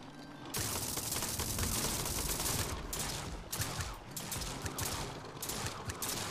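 Hawkeye machine guns in TerraTech blaze in sustained, loud automatic fire, a dense continuous barrage with brief dips and resumptions over several seconds.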